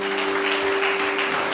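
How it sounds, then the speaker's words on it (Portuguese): Congregation clapping in a church service, a steady dense patter of many hands sustained evenly throughout, with a constant tonal hum beneath and no talk. "Você pode aplaudir ao Senhor?"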